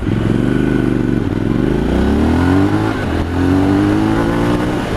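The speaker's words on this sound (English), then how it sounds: "let's just pull over here and we'll just do a quick 0 to 60 down here" A Triumph Scrambler 1200 XE motorcycle pulls away hard from a standstill on a roadside, its engine climbing in pitch through a gear change, then rising again, loud and close under wind rush.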